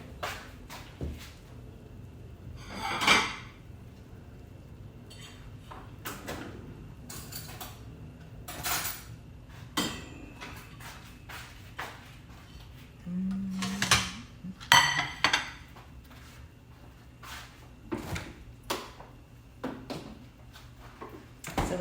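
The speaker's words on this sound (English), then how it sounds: "let's grab a plate" Ceramic plates and dishes clink and clatter close by as a plate is pulled from a stack, with scattered knocks, scrapes and light rattles spread across the stretch and no talk.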